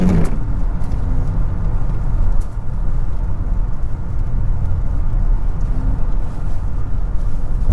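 A 2021 Honda Accord Touring Hybrid accelerates hard, its engine a steady loud drone blended with road and wind roar heard from inside the cabin, holding constant throughout.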